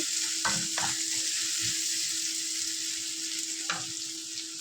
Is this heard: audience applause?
no